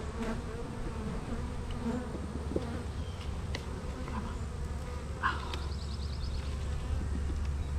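Honey bees buzzing around an opened hive while two hives are split, a dense continuous droning hum close by with occasional louder passes of individual bees.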